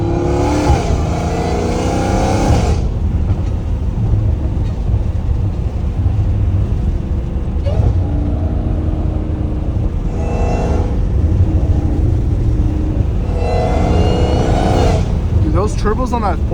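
Dodge Hellcat Redeye with a fully catless exhaust, heard from inside the car, its engine droning loudly with several sharp rising revs and accelerating surges, while people talk over it.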